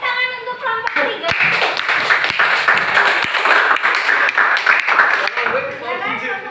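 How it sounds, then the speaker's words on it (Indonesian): Classroom clapping for a student group after their presentation: a loud, close burst of many hands that builds quickly, holds steady, then tapers, with voices briefly audible at the start and end. "tepuk tangan untuk kelompok 3"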